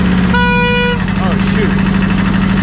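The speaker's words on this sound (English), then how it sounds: "The horn just went off on its own." A Sears loader tractor's horn blares on its own for about half a second, a steady tone over the constant drone of the running engine, followed by a brief squeaky whine as the tractor keeps idling.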